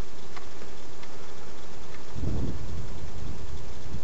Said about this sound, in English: the camera especially struggles when the wind's blown into the microphone